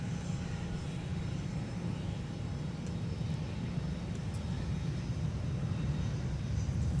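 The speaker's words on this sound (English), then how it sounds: "the arriving 767-400ER that had to go around" A Boeing 767-400ER going around at Minneapolis–St. Paul airport: a steady, loud jet engine roar with heavy low rumble, sustained throughout and swelling slightly toward the end.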